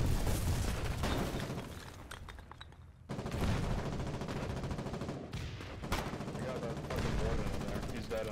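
Gunfire in the war game Foxhole crackles almost without pause, a dense fusillade of shots with heavier booms mixed in, moderately distant and steady across the whole stretch, with no talk heard.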